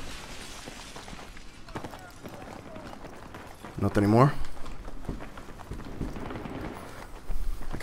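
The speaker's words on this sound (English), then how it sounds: "I can hear a lot of footsteps" Footsteps in Battlefield 3 multiplayer, quick running steps pattering at a moderate distance throughout, mixed with other game noise, while someone briefly speaks over them midway.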